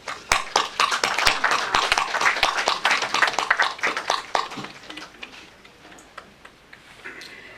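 Audience clapping at a Hindi poetry book-launch ceremony, a burst of dense applause that gradually thins into scattered, sharp individual claps before dying away.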